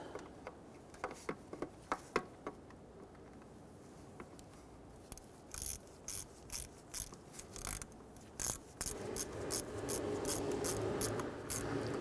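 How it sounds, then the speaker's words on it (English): Bolts snugged down by hand tool on a VVT solenoid of a 2005-2021 Nissan Frontier 4.0L V6: scattered close metallic clicks, then quick repeated ratchet bursts, growing into continuous ratcheting toward the end. "Now let's go ahead and snug down these bolts."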